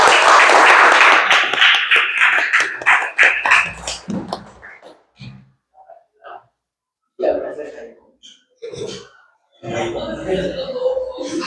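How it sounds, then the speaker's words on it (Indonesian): A class breaks into loud, dense applause for the first few seconds, fading into scattered claps and short bursts of voices and laughter afterward. "Tepuk tangan untuk kita semua."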